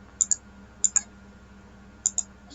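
Quiet keystrokes on a computer keyboard as an IP address is entered, heard as three pairs of sharp, close clicks spaced about a second apart over faint background hum, with no talking.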